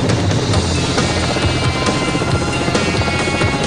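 A helicopter thrums loudly and close by, its rotor beating in a fast steady pulse over a dense engine roar.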